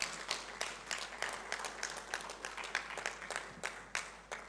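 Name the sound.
audience applause for speakers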